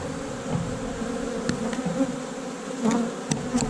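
Honey bees buzz densely at a large, crowded hive in South Carolina in January, with drones present and comb being built; the hum is close, steady and continuous, with brief louder passes of individual bees.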